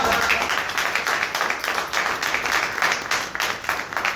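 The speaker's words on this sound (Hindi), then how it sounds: "ताली बजाओ, हालेलुया।" A church congregation claps together during a Sunday worship service, a steady wash of applause filling the hall and pulsing in waves for several seconds without a break.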